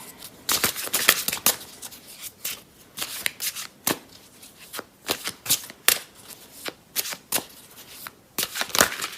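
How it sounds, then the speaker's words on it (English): Tarot cards being drawn and shuffled from a deck, a run of crisp, close papery flicks and snaps in irregular bursts, quiet between strokes, with no talking. "I just want to grab another card for you. Oh, that was two."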